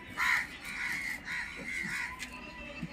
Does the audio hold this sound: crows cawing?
yes